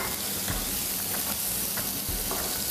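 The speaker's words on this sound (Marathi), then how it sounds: "वेलची साधी, मिरी आणि लवंग हे परतून घेऊया." Cardamom, black pepper and cloves sauté in hot oil in a pan, a steady loud sizzle and hiss with faint periodic stirring scrapes, close and continuous.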